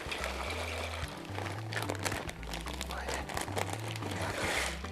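Dry pasta tipped from a packet into a pot of water warming on the stove, giving a soft crinkling and rattling pour that runs through the moment beneath steady background music.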